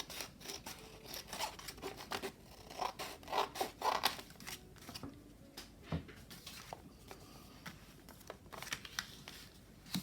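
Scissors snip and slice through a tea-dyed paper envelope in a quick series of close crisp cuts, then slower scattered snips and rustles of paper.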